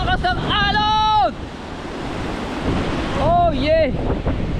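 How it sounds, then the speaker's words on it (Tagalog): Strong surf crashes against a steady roar of wind, with excited voices shouting over the noise. "Oh! Ang lakas ng alon!"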